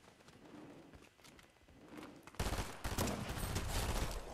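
Gunfire in a shooter video game, a burst of rapid shots that swells from a quieter, busy stretch into loud sustained firing, with no voice over it.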